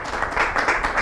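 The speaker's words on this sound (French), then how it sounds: "à Inès Kouassi, que je vous demande d'applaudir très fort." Brief burst of audience applause on a talk show as a guest is welcomed, with rhythmic, fairly close clapping from a small crowd.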